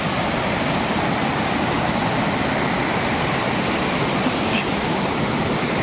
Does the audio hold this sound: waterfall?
yes